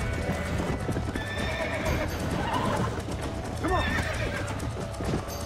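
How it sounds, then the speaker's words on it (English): A horse in the video game Red Dead Redemption gallops with a steady clip-clop of hooves and neighs several times over constant game ambience. A voice speaks briefly over the sound. "se me olvidó que el caballo se cansa"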